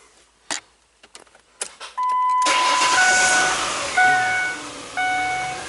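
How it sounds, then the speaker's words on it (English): A 2004 Ford Explorer engine cranked and started, with a few clicks and key jingles first, then a sudden roar that settles into a loud steady idle with faint whining tones. "So let's turn the truck on"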